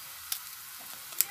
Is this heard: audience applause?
no